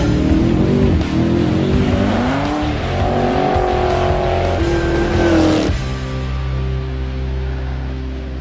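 Tuned cars at the Hot Tuner Challenge roar and rev loudly and close by, engine pitch rising and falling as they accelerate, with tire squeal, then settling into a steady lower drone.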